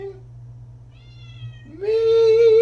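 A cat meows loudly up close, starting with a short, faint mew and then swelling into a long, drawn-out, tonal yowl.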